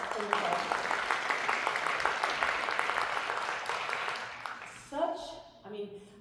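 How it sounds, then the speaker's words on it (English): An audience at a heritage festival choir competition claps for a soprano from the Servants of the King choir, broad applause running about five seconds, then fading as a voice speaks over the tail. "Applause, applause, applause."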